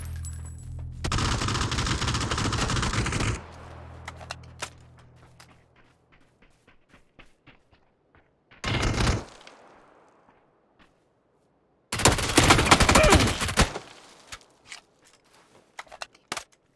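Weapon gunfire in PUBG comes in three separate loud bursts of rapid automatic fire. Each burst is followed by a trail of single echoing shots and faint taps in near silence.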